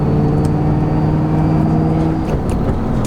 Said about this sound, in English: I don't know if you guys can hear the boost or the car, but it makes a good amount of noise